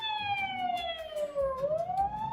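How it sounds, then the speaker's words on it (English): An emergency vehicle siren, a fire truck or an ambulance, wails in a steady sweeping tone that drops and then rises again, loud and close over low road rumble. "So there's a fire truck or an ambulance."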